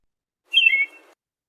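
A single short robin chirp, bright and whistled with a quick downward slide, sounds alone and close against silence.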